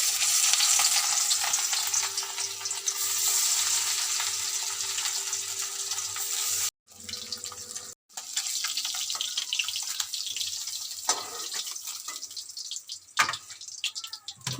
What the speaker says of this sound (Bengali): এবারে দেখো মাছগুলো আমি সব ভেজে নেবো লাল লাল করে মাছগুলো আমি সব ভেজে নেবো